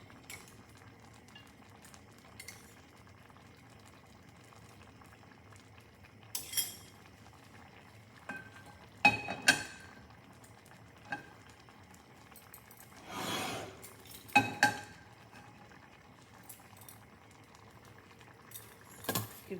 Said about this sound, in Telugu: పోపు వేసుకుందాం.